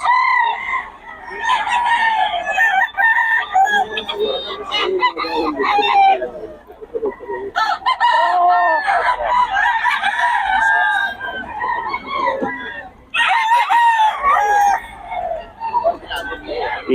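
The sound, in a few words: Gilmore Hatch gamefowl rooster crowing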